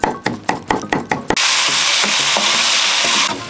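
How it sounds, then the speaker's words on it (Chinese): Red chili bean paste stir-frying in hot oil: several sharp knocks of a spatula against the wok, then a loud, steady sizzle that continues close up and fades slightly at the end. "我们把红油豆瓣炒香。"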